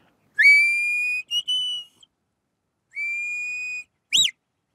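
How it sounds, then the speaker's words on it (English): A clear, steady herding whistle for a working dog sounds twice in long held low notes, followed by a short, sharp upward whistle, with silence between. "My low whistle, and I'll have a ding ding on that at the end of that"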